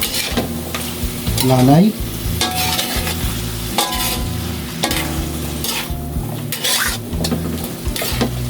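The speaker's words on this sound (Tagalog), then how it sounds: "Haluin po ulit natin yung bahagya," Food frying in a pan and being stirred, a loud continuous sizzle with scraping and clattering strokes of a utensil against the pan throughout, close to the mic, with a brief word spoken early on.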